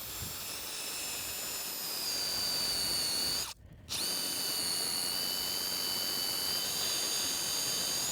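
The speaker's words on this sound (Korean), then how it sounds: "전동 드릴로 45도 각도로 구멍을 뚫고 넣는 게 가장 좋다 그랬죠. 자, 전동 드릴 돌아갑니다." Electric drill boring a hole at a 45-degree angle into a tree trunk during acacia removal, a steady loud high whine that cuts out briefly near the middle and then resumes.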